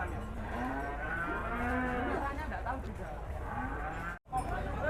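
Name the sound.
cow mooing at a cattle contest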